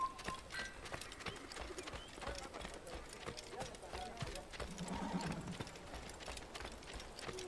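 Horse hooves clip-clop steadily in the Assassin's Creed video game, a continuous faint trotting rhythm with an occasional whinny, under quiet background game sound.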